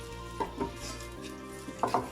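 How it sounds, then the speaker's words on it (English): Chopped onions tipped into hot cooking oil in a pan for a lamb kebab chutney, a soft low sizzle with a couple of light clatters of a spoon or utensil against the pan, fairly quiet and with no talking. "I'm just going to put in the onions."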